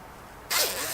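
A single quick zip as the slider is pulled along a zipper sewn onto a fabric pouch, close and crisp after a brief quiet moment.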